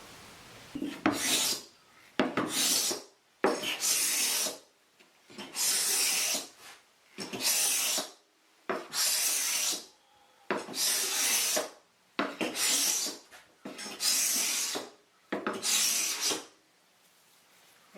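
A card scraper rasps across the top of a wooden hall table in about a dozen even back-and-forth strokes, each a dry scraping burst separated by short pauses.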